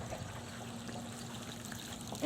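Water from a DE pool filter pours steadily through an opened discharge valve, a continuous close trickling rush with no voices.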